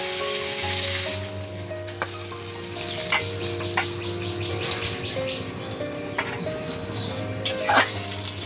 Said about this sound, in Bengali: মাছগুলো ভাজা হয়ে গিয়েছে, এবার তুলে নেব।